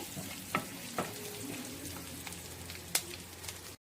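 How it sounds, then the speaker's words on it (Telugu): Garlic sizzles and fries in a hot pan while being stirred, a steady crackling hiss broken by a few sharp clinks of the spoon against the pan. "ఇవి కూడా వేద్దాము వేసిన తర్వాత మంచిగా ఇలాగా లైట్ బ్రౌన్ కలర్ వచ్చే వరకు ఇలా కలియ పెట్టుకుంటూ ఉందాము"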